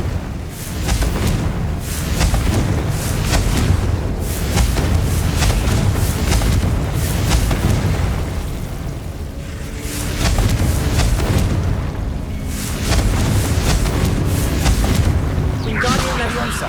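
Confringo spell explosions in the video game Hogwarts Legacy boom again and again. The loud, heavy blasts come in steady waves with brief dips between them.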